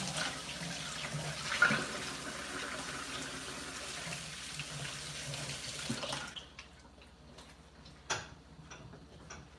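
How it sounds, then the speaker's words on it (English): Hands being washed under a running tap, with a steady close splash of water for several seconds, then the flow stops and a few faint clicks and knocks follow in a quiet room. "let me wash my hands"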